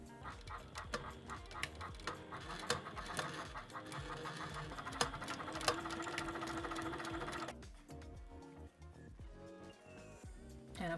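Sewing machine stitching fabric straps onto a harness, running in fast, close bursts for several seconds, then stopping, after which quieter handling noises and faint talk follow.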